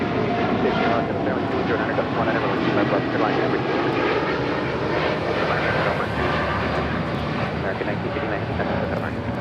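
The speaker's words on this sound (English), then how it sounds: "1959 taking off to Miami on a 787-8 Dreamliner" An American Airlines Boeing 787-8 Dreamliner takes off at LAX with a loud, sustained jet engine roar that swells and pulses slightly, while a voice talks over it, like radio chatter.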